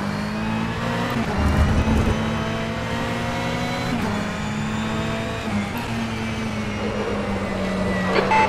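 Ferrari 488 GTE race car engine in rFactor 2 at Portland, a loud, steady high-revving drone that rises and falls through gear shifts, heard alone.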